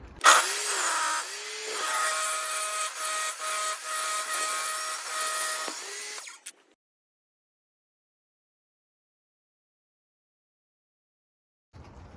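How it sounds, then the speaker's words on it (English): Table saw ripping the last furring strip from a piece of timber: a loud, steady whine of about six seconds with blade pitch dipping under load, close to the mic, then sudden silence and faint noise at the end. "Cut this last one off now, off this bit of timber."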